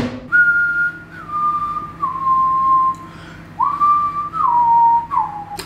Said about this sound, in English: I actually whistle quite well